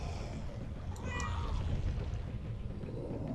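A single short cat meow from a video game, Murdered: Soul Suspect, rises briefly over a constant low background hum, fairly faint and not repeated.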